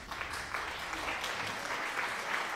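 Applause sound alert triggered on a livestream: a steady burst of clapping and crowd cheering that holds at an even level throughout, with no talk over it.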